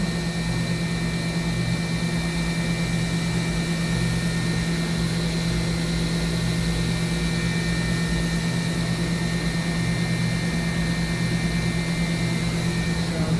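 The spindle of a 2013 Mazak HCN 4000 Mark III horizontal CNC machining center turns at 10,000 RPM, giving a steady, loud, unbroken whine with a constant drone underneath.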